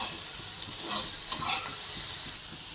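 Dried shrimp sautéing in a pan with onions and tomatoes: a constant close sizzle and frying hiss with occasional scraping stirs over the top.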